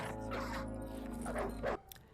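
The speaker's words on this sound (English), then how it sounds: "we can hear barking sounds coming closer" Wolves in the horror game Fear & Hunger bark and yip in a short, faint, muffled run of calls set against a low ambient drone.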